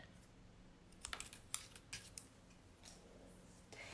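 Scissors cut out a paper shape, giving a quiet, close run of crisp snips and small clicks in an irregular rhythm.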